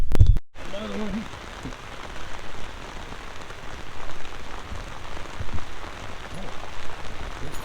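Pouring rain drums steadily on a boat, a dense, constant patter of drops close by that swells and eases slightly, with a brief knock at the start.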